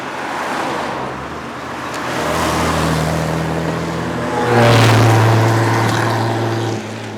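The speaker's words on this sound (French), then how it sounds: "Le bruit de la voiture, c'est extraordinaire. Elle a un bruit terrible." A Fiat 124 driven on the Rallye des Princesses rally drones steadily from inside the car, the engine note climbing as it accelerates, with road and wind noise beneath.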